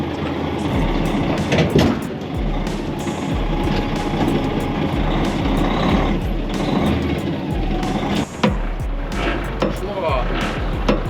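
A truck with a trailer pulls out of a depot yard, its loud diesel engine rumbling steadily close by, with rattles and a sharp clunk near the end.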